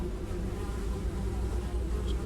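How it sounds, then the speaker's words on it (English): Steady droning buzz of flies fills an area in The Secret of Weepstone video game, a continuous insect hum at even loudness throughout with no talk. "Despite the buzzing flies, you hear the faintest sound of rushing water."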